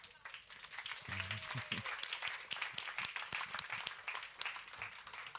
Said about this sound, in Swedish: En stor applåd till Andreas Öhman